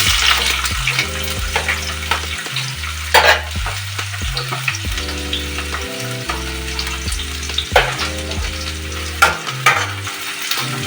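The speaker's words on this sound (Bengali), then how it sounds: "অল্প অল্প পেঁয়াজটা ভাজা ভাজা হয়েছে।" Chopped onion frying in white cooking oil in a pan on a gas stove, a steady sizzle with stirring scrapes and clinks, while a music track plays loudly over it throughout.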